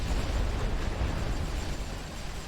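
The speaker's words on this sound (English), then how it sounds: "And this is a rolling barrage." Rolling artillery barrage in The Great War: Western Front strategy game, a dense continuous rumble of overlapping distant explosions filling the whole stretch with no pauses.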